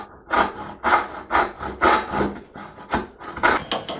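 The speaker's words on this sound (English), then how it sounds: "I'm going to use my tenon saw, as it's mostly running with the grain" A tenon saw cuts wood along the grain with the workpiece held in a vise, giving about nine steady rasping strokes in an even back-and-forth rhythm, close and fairly loud with no talking.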